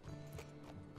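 Horse hooves clip-clop steadily in Red Dead Redemption 2, a quiet, rhythmic walking gait heard faintly and alone.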